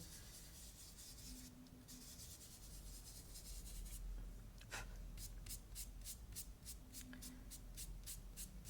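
Soft pastel is rubbed and blended on paper with a steady, close, quiet scuffing, followed by a run of short, regular strokes near the end. No one speaks.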